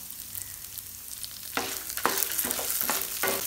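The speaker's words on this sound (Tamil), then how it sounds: "மீடியம் ஃப்ளேம் வச்சு லேசாக செவந்து வர அளவுக்கு வறுத்துக்கிட்டா போதும்." Lentils, black peppercorns and dried red chillies are stirred and roasted in oil over a medium flame, giving soft sizzling with several sharp scraping stirs close by, quiet at first, then busier.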